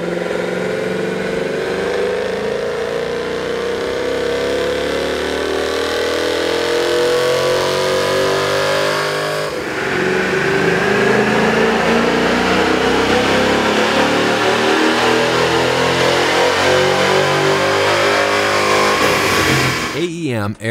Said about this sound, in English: Here's a comparison of the Mustang sound on the dyno with the stock OEM system versus AEM's air